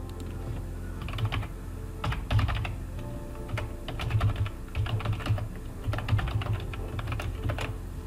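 Keys clatter in quick uneven bursts as an email address and password are typed on a computer keyboard, with short pauses between runs of keystrokes and a low steady hum underneath.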